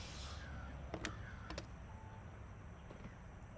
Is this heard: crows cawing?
yes